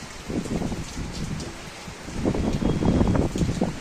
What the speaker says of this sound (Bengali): বাতাস বইছে